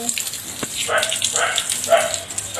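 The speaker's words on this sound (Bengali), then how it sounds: "দেখো তোমার দাদা উঠোনে জল দিচ্ছে" Water splashes and gushes onto a sun-baked home courtyard beside a lemon tree in hot weather, a close, uneven wet pattering with a sharp knock partway through.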